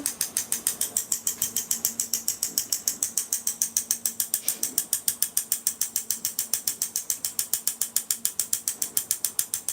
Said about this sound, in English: a fun little metal knife, hard knife, and we're going to go between tapping and scraping